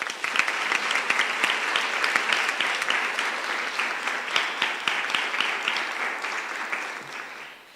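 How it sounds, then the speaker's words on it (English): A school assembly audience applauds a departing teacher in warm, crowded clapping that stays full and even for several seconds before gradually fading out. "Let's give Ms. Black a warm round of applause."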